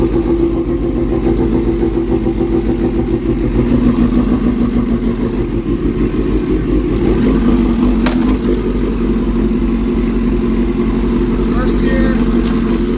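A 2005 Suzuki GSX-R 750 motorcycle engine runs loud and close, revving steadily as it is taken up through its six gears, with a constant droning tone and a brief sharp spike partway through.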